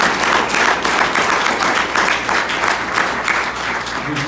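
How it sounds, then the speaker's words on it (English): An audience applauds steadily throughout at a religious gathering, a dense, continuous wash of many hands clapping close by with no talk over it. "Give yourselves a round of applause."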